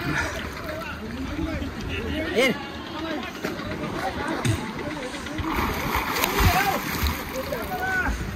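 People splash and move about in a natural swimming pool, with water sloshing and splattering throughout under a steady babble of voices and shouts close by.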